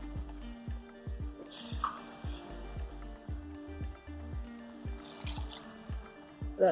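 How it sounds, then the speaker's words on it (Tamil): Water goes into a pan of simmering broad beans tomato curry, close and fairly quiet, heard as a steady run of low, regular plops and drips. "நான் இன்னும் கொஞ்சம் தண்ணி ஊற்றிக்கிறேன்."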